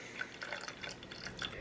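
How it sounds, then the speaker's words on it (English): Balsamic vinegar trickling from a bottle into a pot of homemade BBQ sauce, a quiet, steady liquid pour with small drips and splashes running the whole time, close by and faint. "at this stage, I'm gonna add my balsamic vinegar."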